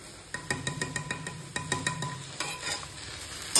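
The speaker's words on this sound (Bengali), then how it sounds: "আর এখানে ভাজাটা হচ্ছে" Food frying in a pan on a home stove while being stirred, with a quick run of rhythmic scraping and clinking strokes over a soft, steady sizzle, close and fairly quiet.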